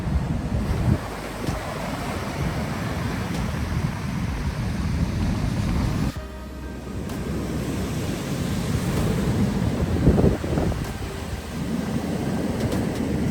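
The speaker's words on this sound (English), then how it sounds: "Big waves crashing." Heavy ocean surf roars steadily with wind buffeting the microphone, waves crashing continuously with no voices.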